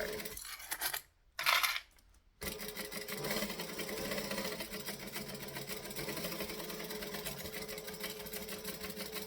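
A sewing machine runs steadily for several seconds while basting the layers of a zippered triangle bag, after a few brief clicks and pauses, a close, even mechanical whir.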